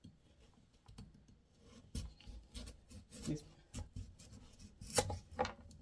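A knife slices yams on a cutting board in irregular, close thuds and scrapes. Some cuts land harder than others, with quiet gaps between strokes.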